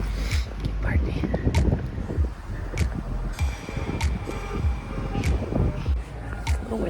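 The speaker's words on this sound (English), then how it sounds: "It's a little windy." Gusty wind buffeting the microphone on the Reykjavik waterfront, rumbling in irregular bursts while a person talks throughout.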